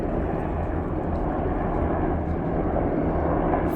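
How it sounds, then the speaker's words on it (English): Several helicopters fly overhead near a city comic convention venue, a steady low rotor and engine drone that holds without pause, moderately loud and distant, with no talk. "3 helicopter, 4 helicopters. Is that normal?"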